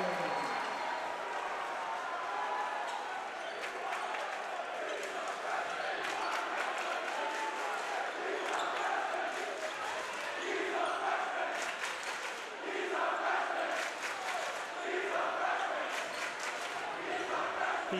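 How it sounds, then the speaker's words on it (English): The Bellarmine student section cheers and claps in the gym during a basketball game, a steady crowd din with swells of shouting and a few ball bounces. "The Bellarmine cheering section cheering that he is their freshman"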